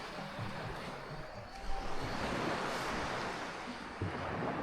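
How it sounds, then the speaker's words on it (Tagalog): Surf washing steadily onto the beach at Igsuso with boats nearby, a broad continuous roar of waves mixed with wind buffeting the microphone. "Ito po ang aplaya ng Igsuso"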